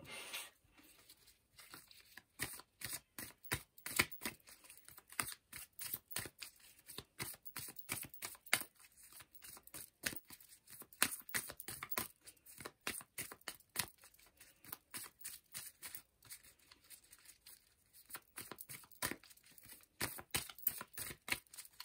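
Tarot cards are shuffled and drawn in a rapid, irregular run of crisp flicks, riffles and snaps, close and fairly quiet, continuing for about twenty seconds without talk.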